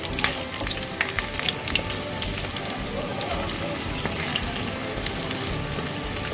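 Pumpkin flower fritters coated with poppy seeds fry in hot oil, giving a steady, close crackling sizzle that runs unbroken throughout.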